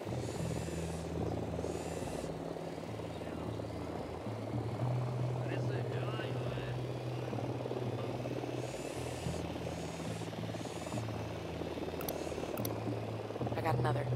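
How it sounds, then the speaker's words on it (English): A drone in a military video game, a steady droning hum of rotors that holds throughout, with shifting tonal bands under game noise and speech from people in the clip. "Drone is airborne."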